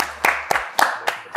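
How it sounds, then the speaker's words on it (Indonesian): Clapping at a film promotion event, heard as a handful of sharp, evenly spaced claps in a steady rhythm, fairly close and loud, with no one talking over them. "Boleh tepuk tangannya buat Ari teman-teman."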